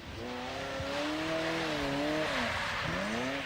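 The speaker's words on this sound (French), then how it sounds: "La F40 personnelle de Piero Ferrari est conduite par Dario Benuzzi, pilote essayeur" Ferrari F40 driven hard on the Fiorano test track, its engine note rising and falling through gear changes with a steady, fairly loud roar and no talk.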